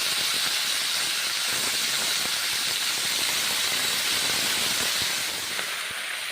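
Shredded cabbage frying in well-heated oil in a home kitchen, giving a steady, loud broadband hiss that holds evenly throughout and eases slightly near the end, with no talking.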